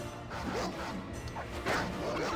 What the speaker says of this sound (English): this part of the Dungeons and Dragons universe has a massive problem with just stray dogs, man